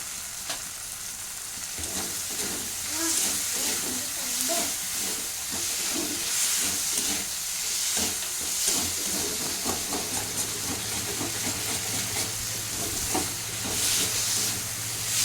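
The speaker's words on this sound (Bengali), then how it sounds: "এখন আমি দিয়ে নেবো আলুগুলো একটু কষিয়ে নেব।" Potatoes sautéing in masala for loitta fish curry, a constant oily sizzle and hiss with frequent stirring scrapes and clinks throughout, close and steady without any voices.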